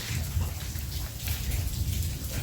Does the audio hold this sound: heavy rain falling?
yes